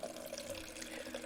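Water runs from a desk-side water dispenser, a faint steady trickling stream with a gently warbling tone, continuous and quiet, with no voices.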